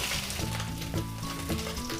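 Fish head frying in oil, a brief close sizzle with crackling spatter and light stirring clinks.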